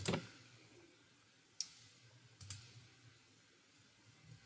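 A computer mouse clicking while working in Adobe Illustrator: a few faint, sharp, isolated clicks spaced over a quiet room.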